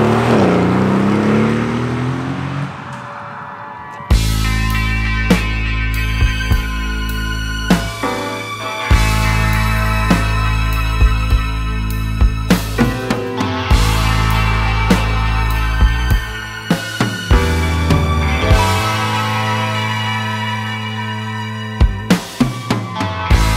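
Aston Martin Vantage F1 Edition V8 roars loudly and close, its engine revving through rising gears with repeated sharp upshifts and pops over about twenty seconds, no voices.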